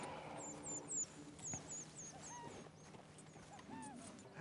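Faint hooves clip-clop from a horse in the video game Red Dead Redemption 2, a soft irregular plodding set against quiet outdoor ambience with scattered bird chirps.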